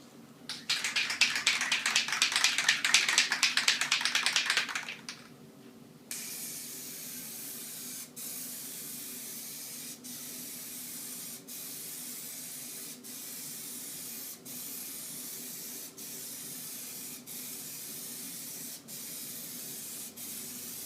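Plasti Dip spray coat being applied to car stripes: one sustained close aerosol hiss lasting about four seconds, then a quieter steady background with faint regular ticks.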